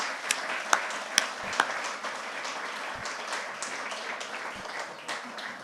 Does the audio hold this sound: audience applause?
yes